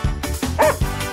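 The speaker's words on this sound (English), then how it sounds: "Oh, look, a dog." A dog barks and yips in a quick series of short, sharp bursts up close, with one higher whining yelp in the middle and no talking.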